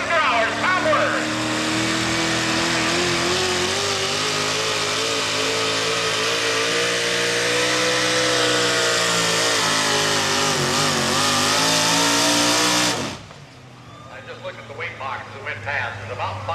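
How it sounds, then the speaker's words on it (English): A 1995 Chevy pulling truck with a 642 cubic inch naturally aspirated engine roars at full throttle for about thirteen seconds, loud and sustained with shifting pitch, then cuts off abruptly into quieter crowd and announcer noise. "1995 Chevy, 642 cubic inches of naturally aspirated Chevrolet power."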